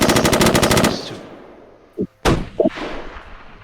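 M249 machine gun fired in the video game Silica: a loud, rapid sustained burst that stops abruptly, then a couple of short mechanical clunks and one more sharp shot trailing off.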